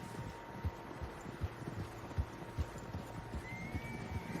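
Several horses trot across open ground in Red Dead Redemption 2, their hooves striking in a steady, loose clip-clop rhythm over a soft windy background, fairly close and moderately loud.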